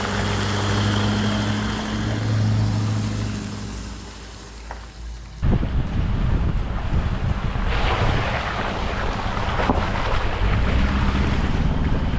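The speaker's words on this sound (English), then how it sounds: "That was a puddle, not what I did." A 4x4 van drives through a puddle on the Bloomfield 4x4 track. Rumbling wind buffets the microphone at first, then a sudden loud rushing splash of water bursts in midway and keeps going to the end.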